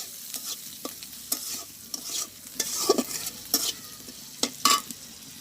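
Spice paste with ground dried chilli for a duck egg curry sizzles in a pan in a village kitchen, with a spoon scraping and stirring in sharp, irregular strokes over a soft, steady fry, close up and without talk.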